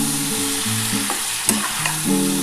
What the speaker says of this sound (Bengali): মূলো আলুটা একটু ভালো করে ভাজতে হবে